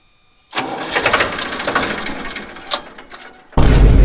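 A tractor engine cranks and catches after a quiet moment, then runs roughly with uneven knocks and surges before jumping to a louder, heavy idle near the end. The sound is close and loud.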